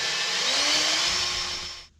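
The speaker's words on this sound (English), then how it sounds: "Mr. Hammer drilled a hole in our bracket" Hammer drill boring a hole in a metal bracket while restoring a 1970 Ford Torino, a short close high-pitched whine that winds down and stops abruptly.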